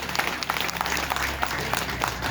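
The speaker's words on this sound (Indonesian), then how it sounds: "Satu kali lagi tepuk tangan dengan senyumnya" Audience at a school environmental award ceremony (Adiwiyata, primary and junior high, regency level) gives a dense, sustained round of applause, many hands clapping together at steady volume from start to finish.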